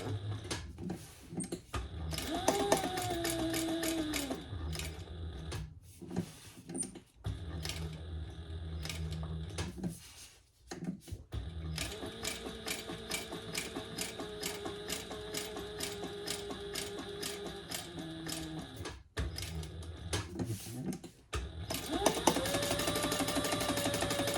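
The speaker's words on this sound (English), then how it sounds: "I'm just sewing an 1/8 of an inch, and I'm using a stitch length of 4." A sewing machine stitches an eighth-inch seam at stitch length 4, running in fast rhythmic bursts of needle clatter separated by short pauses, close and fairly quiet.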